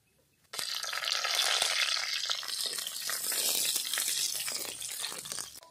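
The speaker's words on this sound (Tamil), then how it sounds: "வெந்தயம் இப்போ பொரிஞ்சிட்டு இப்போ பட்டை மிளகாய் சேர்த்துக்கலாம்." Fenugreek seeds and dry red chillies crackle and sizzle in hot peanut oil in a village kitchen, a sudden loud hiss starting after a brief quiet and continuing as a dense, steady spitting fry.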